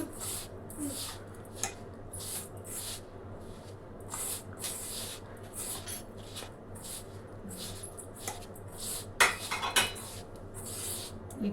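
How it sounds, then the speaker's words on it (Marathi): Besan (gram flour) batter being mixed in a bowl for thalipeeth, repeated clinking and scraping strokes in a steady rhythm over a low constant hum, close, with no talking. "छान असा मिक्स करून घेऊ आणि भिजवून घेऊ"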